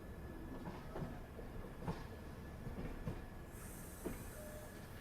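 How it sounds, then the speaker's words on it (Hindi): Marudhar Express train, hauled by an Abu Road shed locomotive, departs along a curve, with a steady rolling rumble, soft rhythmic wheel clicks over rail joints, and a faint high squeal near the end, heard from a distance. "खूबसूरत सा कर्व लेते हुए अपनी ट्रेन डिपार्चर ले रही है यहाँ पे।"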